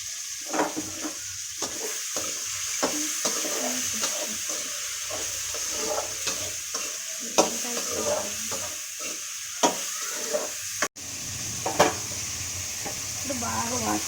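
Bitter gourd frying in plenty of oil in a pan for a bitter gourd curry; a continuous, close hiss with stirring scrapes and one sharp clank, while a voice talks over it.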